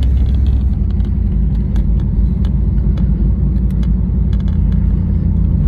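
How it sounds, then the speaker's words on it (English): A 1994 Chevrolet Camaro in bright teal metallic cruises up a residential block at about 30 mph, its engine giving a steady, loud low rumble with continuous road noise and no talking. "I just want to run this up the block and show you how nice this thing drives."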